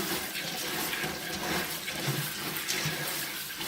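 Water pours steadily into a glass canning jar of dry beans, a continuous close splashing rush with no break.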